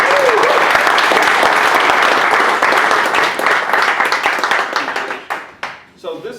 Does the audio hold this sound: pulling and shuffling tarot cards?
no